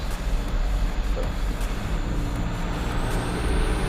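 A Mitsubishi Canter truck carrying a heavy load drives in second gear at about 1200 RPM, its diesel engine a loud, steady, close rumble with a faint rising whine, no talk.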